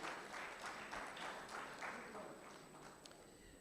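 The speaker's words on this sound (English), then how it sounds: "Let's give another round of applause to Mr. Lawrence Freeman" Audience at the second International Railway Conference and Expo applauds a speaker, a steady wash of clapping from a large hall that fades gradually toward the end.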